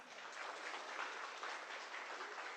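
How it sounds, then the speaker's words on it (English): Audience applause at a mental health day event, a dense, even wash of clapping from a crowd, fairly distant and steady for the whole stretch. "Can we get another applause, please?"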